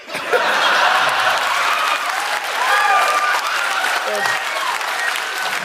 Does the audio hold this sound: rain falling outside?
no